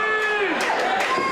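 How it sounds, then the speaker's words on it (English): Wrestling crowd at an indie show rallying during a hard-fought match, a brief burst of cheering and shouting voices close and loud, surging in quick waves. "the crowd's rallying"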